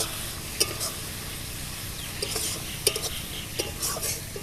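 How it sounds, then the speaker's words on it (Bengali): A spoon scrapes and clinks against the pan as chicken curry masala thinned with a little water is stirred, over a steady low sizzle, close up with no talk. "এর মধ্যে সামান্য পরিমাণ জল দেব। ভালো করে নাড়াচাড়া করে নেব।"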